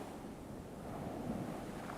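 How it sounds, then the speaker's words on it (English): Ocean waves wash onto a beach shore in a soft, continuous surf roar with faint wind, steady and distant, with no voices. "the waves crashing on the shore"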